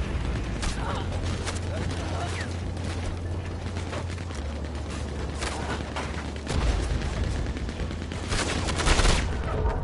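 A Maxim machine gun firing in Red Dead Redemption 2's Call to Arms mode at Armadillo, with rapid repeated gunshots and clattering bursts throughout amid a dense battle din, growing louder toward the end.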